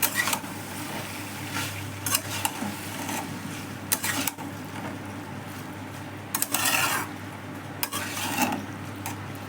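Pasta tossed with already-cooked vegetables in a pan over a high flame, the spoon scraping and clattering in bursts over a steady background hum with a soft sizzle, and no talking.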